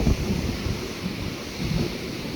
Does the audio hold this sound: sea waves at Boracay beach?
yes